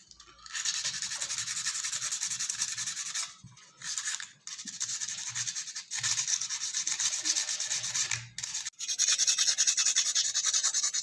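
A steam vaporizer plate rubbed back and forth on emery paper to scour off buildup, a close, loud, continuous gritty scraping in long strokes, broken by a few brief pauses, with no talking.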